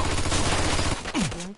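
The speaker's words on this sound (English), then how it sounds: "Found the machine gun." Machine gun fire in the Mafia 2 video game, a rapid rattling burst that fills the first second loud and close before breaking off, followed by a brief descending whistle-like tone.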